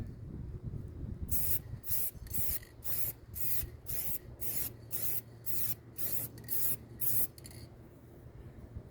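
Rattle-can spray paint hisses out in a long run of short bursts, each a second or less with brief gaps, close and fairly steady, with no talking over it.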